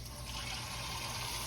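Liquid pours steadily into a pot of braised meat seasoned with Worcestershire sauce, a close continuous rushing splash with no talk.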